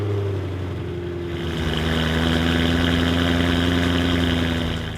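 A BMW E90 M3 engine settles from a cold-start high idle into a steady, even idle, its low rumble continuous and close with a slight rise in level partway through.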